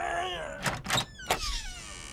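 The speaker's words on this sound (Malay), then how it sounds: "Apa sah tak boleh tarik pintu ni?" In an animated Mechamato cartoon, a door is yanked hard: a few strained creaks and heavy thunking bursts, with voice-like groans over a quiet background.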